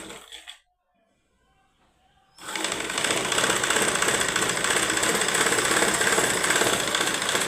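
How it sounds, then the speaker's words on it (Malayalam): A sewing machine stitching blouse fabric pieces together starts after a short quiet pause and then runs in a loud, continuous, fast mechanical whir close by. "പിടിച്ചതിന് ശേഷം 1/4 ഇഞ്ച് വീതി സ്റ്റിച്ച് ചെയ്ത് കൊടുക്കണം."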